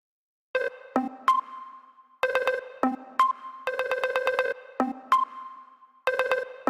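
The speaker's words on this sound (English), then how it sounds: "I've got a sample in the project now which has some reverb on it." A short melodic sample repeats in a loop, each burst of tones followed by a ringing reverb tail fading away before the next.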